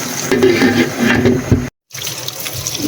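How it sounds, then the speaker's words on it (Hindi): Cold water gushes from a kitchen tap over freshly boiled spaghetti for an aloo spaghetti dish, a loud, close, continuous splashing rush that breaks off briefly and then resumes. "इसके ऊपर मैंने ठंडा पानी डाला है"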